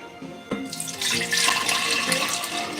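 Freshly made vegetable juice pours steadily into a big glass Ball mason jar, a close, continuous splashing gurgle that builds after a short tap at the start, with no speech.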